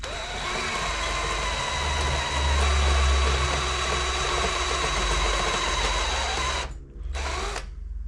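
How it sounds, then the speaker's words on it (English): A step drill opening holes to 8mm in the left-hand sill of a Land Rover Discovery 3, a steady loud whining drone that holds for several seconds before dipping briefly and picking up again, close by. "Now we'll take them out with a step drill to 8mm."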